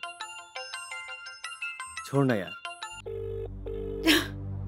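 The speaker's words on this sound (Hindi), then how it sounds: "फोन बजाता" A melodic phone ringtone plays repeatedly, loud and near, with a short spoken outburst in the middle and a brief laugh-like burst near the end.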